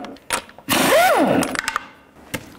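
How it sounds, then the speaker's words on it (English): A socket on a power tool spins off a lug nut from the front wheel of a 1999–2007 Chevy Silverado 2500HD, a loud close rising-and-falling whir lasting under a second, set among sharp metallic clicks and knocks. "take the lug nuts off."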